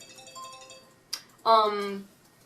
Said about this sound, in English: Mildly distracted by my phone going off